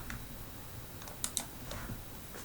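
Two quick clicks of a computer mouse on a Blackboard course page, close and fairly quiet, set against a steady low background hum.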